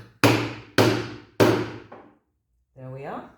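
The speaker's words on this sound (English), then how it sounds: "I'm gonna whack it with my hammer, large copper hammer, so I don't damage the steel" A large copper hammer striking a hardened steel die while making silver jewelry blanks: three loud, sharp metallic blows spaced evenly and ringing out briefly, followed by a pause and then a short stretch of someone talking.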